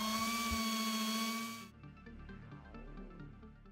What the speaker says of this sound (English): we replace it with a 2-inch Trizact disc. This is 3000 grit, and we're going to work it and remove a couple layers of this paint